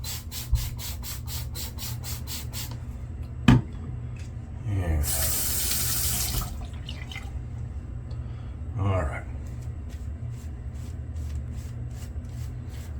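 A bathroom tap runs while a face is wetted before a shave, a soft faint stream under a low hum with a louder splashing gush midway and a few light knocks.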